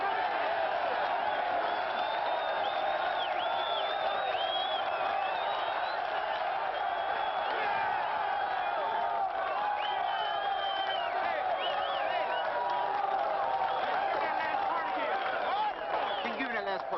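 A large crowd of prisoners in a 1980 Attica prison drama, yelling and cheering continuously in a dense, steady roar of many voices at a distance.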